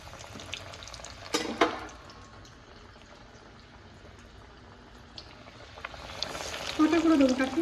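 Large pieces of food frying in plenty of white cooking oil, a soft bubbling sizzle with occasional louder splutters and clinks, swelling near the end as more pieces go in.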